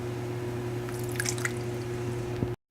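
Quarter cup of water poured for a brownie mix, a short run of light splashing and drips at close range over a steady hum, ending abruptly.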